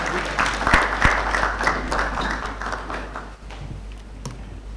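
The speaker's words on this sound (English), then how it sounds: "Please, a round of applause for the academic secretary." Audience applause at an academy induction of fellows ceremony, a steady wash of clapping from a large seated crowd that holds for several seconds at moderate loudness, with a few sharper nearby claps standing out.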